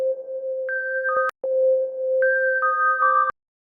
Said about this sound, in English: It's really sine waves with reverb and delay.